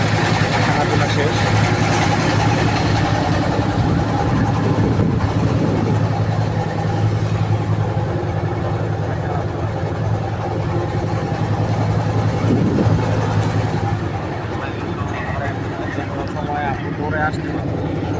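A trawler's engine runs steadily, a loud continuous low rumble and drone aboard the boat on a river, with people talking over it throughout.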